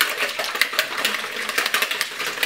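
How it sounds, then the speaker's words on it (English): Eggs are whisked for homemade eggnog, a rapid, fairly close clatter of fast rhythmic strokes continuing steadily with no talking. "Whisk the eggs."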